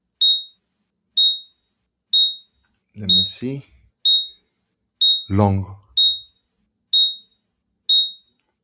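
A trading bot's alert alarm sounds as a series of short, identical high electronic beeps about once a second, repeating evenly throughout. Someone speaks briefly between two of the beeps.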